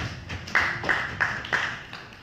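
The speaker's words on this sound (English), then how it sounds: "So clap for yourself." An audience clapping in a handful of sharp, evenly spaced claps, fairly close and clear, with faint background noise between them.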